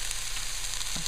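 Onions sautéing in a pan for a sausage and red peppers dish give a steady, close frying sizzle with a faint stir or clink near the end.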